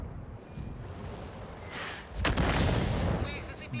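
An artillery shell fired by a self-propelled gun in World of Tanks, heard as a loud burst with a sustained booming rumble in the second half, over continuous battle noise.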